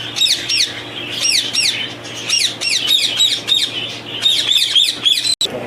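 Ringneck parrots, including yellow and white ringnecks, and doves at a breeding farm in Faisalabad call continuously, with repeated loud, close squawks and chirps overlapping in a busy chorus.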